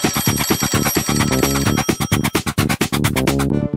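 A cartoon telephone-train in Pocoyo rings with rapid, repeated bell-like trills in quick rhythmic bursts, bright and loud, alone without talk.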